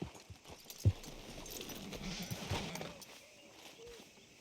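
Horse hooves walking in the video game Red Dead Redemption 2, soft clip-clop steps at a slow, irregular pace, faint and fairly close, with a few louder knocks and quiet game ambience beneath.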